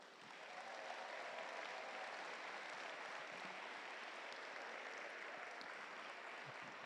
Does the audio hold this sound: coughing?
no